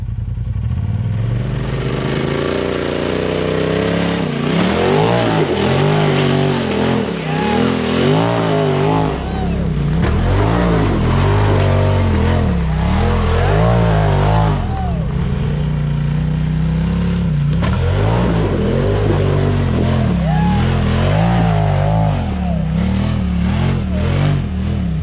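Can-Am UTV side-by-side engines roar and rev loudly up close on an off-road trail, pitch rising and falling with throttle as the vehicles climb and bounce, with voices talking over the din.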